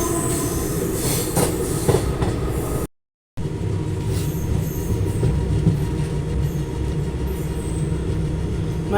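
An Indian passenger train hauled by an electric locomotive rumbles along the track, a loud steady roar of wheels with squeal and clatter, briefly cut out partway through, no voices.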